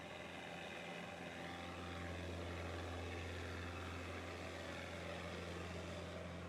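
A 2020 JLG 460SJ telescopic boom lift with jib, four-wheel drive, driving forward: a steady, constant engine drone with low hum and broadband noise, loud and continuous throughout, no voices.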